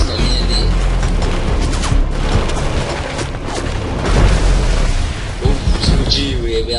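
Heavy rumbling booms and crashing from an explosion in the game Defiance, a dense, loud continuous roar with a sharper burst midway, and a voice talking over it.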